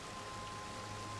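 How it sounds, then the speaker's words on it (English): Steady rain ambience in the video game Final Fantasy XIV: an even, soft hiss of falling rain with no breaks, fairly faint throughout. "Oh god, it's raining."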